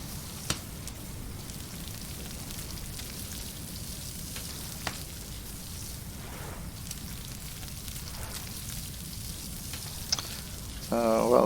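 Food sizzles over a campfire in Stranded Deep, a steady crackling hiss running throughout at moderate level, with a few faint clicks and a brief louder sound at the very end.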